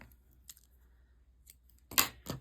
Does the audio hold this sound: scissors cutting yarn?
yes